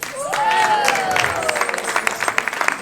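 Applause at a storytelling performance, a crowd clapping with scattered cheers and whoops rising over it, the clapping growing choppier toward the end.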